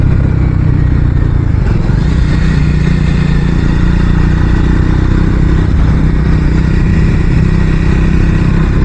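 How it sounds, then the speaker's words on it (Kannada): A small motorcycle rides along a road, its engine droning loudly and continuously close by with a rough, rattling low tone and no voices. "ಚಿಕ್ಕ ಬೈಕಲ್ಲ, ಟಕ ಟಕ ಟಕ ಅಂತ ತಿರ್ಸ್ಬೋದು"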